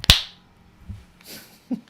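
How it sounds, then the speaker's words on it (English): A single sharp, close finger snap at the very start, followed by quiet room sound and a few faint soft knocks. "When I snap my fingers, you will be delighted by what you've drawn."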